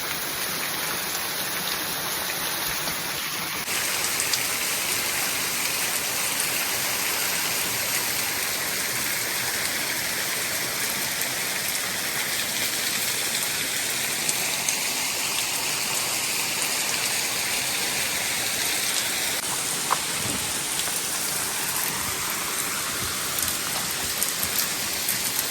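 Meltwater patters and drips steadily from huge icicles at a frozen waterfall, Buttermilk Falls in New Florence, Pennsylvania, a dense, continuous wash of drops close by with no voices.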